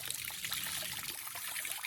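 Clean spring water trickles and splashes in a steady, bright stream close by, with no one talking over it.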